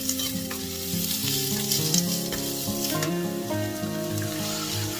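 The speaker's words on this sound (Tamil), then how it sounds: "இந்த ஸ்டவ்வில் ஒரு பேன் வச்சு ஆலிவ் ஆயில் போட்டு கடுகு உளுத்தம்பருப்பு காஞ்ச மிளகா கிள்ளி போட்டு அதில் வெங்காயமும் ஆட் பண்ணி நல்லா வதக்கிக்கலாம்" Onions sauté in olive oil with mustard seeds, urad dal and broken dried chillies, giving a constant close sizzle that runs unbroken under a light melodic backing.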